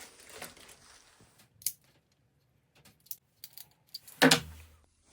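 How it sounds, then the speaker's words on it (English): Metal screws and washers clinking as they are handled while a stainless steel stave snare drum shell is assembled, a few sparse close jangles and taps with quiet gaps between them. "Got my screws here and some washers."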